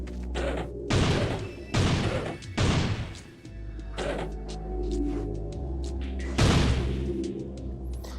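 Cannon shots in the game Ferazel's Wand, several broad thumping bursts spaced irregularly over a steady low background, each a loud crash-like blast with trailing rumble.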